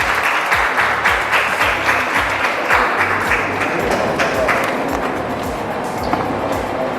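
An audience at the Lalit Kala Akademi's 67th Foundation Day ceremony applauds General Bakshi as he is invited to speak, a loud, steady crowd clapping that carries on without a break throughout.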